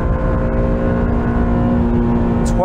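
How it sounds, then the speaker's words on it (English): A Honda NSX sports car's engine roars steadily at high revs during a launch-mode quarter-mile run, a loud sustained drone with a faint whine rising near the end. "Floor the throttle, launch mode, here we go."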